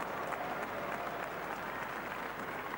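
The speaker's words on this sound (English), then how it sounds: "The crowd urging him on." A football crowd at Windsor Park, Belfast, roars and applauds at a testimonial match, a dense, steady wall of cheering and clapping heard from within the stadium.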